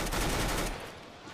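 Gunfire from a Counter-Strike: Global Offensive pro match, a quick loud burst of shots with a dense rattling texture over roughly a second, then fading into game ambience.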